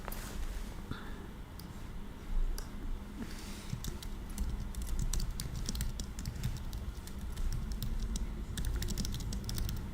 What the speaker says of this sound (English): Now that's me typing